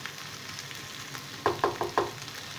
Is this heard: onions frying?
yes